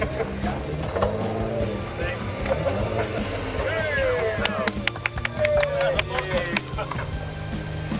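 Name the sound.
vehicle in reverse revving to pull stuck car from sand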